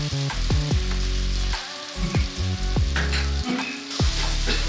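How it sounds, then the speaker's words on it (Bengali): Spices with tomato paste, chilli powder, salt and turmeric stir-fried in oil for a Bengali mixed fish curry: a close, steady sizzle broken by sharp scraping stirs of a spatula against the pan. "মশলাগুলোকে নেড়ে একটু হালকাভাবে কষিয়ে নেব যতক্ষণ আমাদের মশলা থেকে তেল না ছাড়ছে"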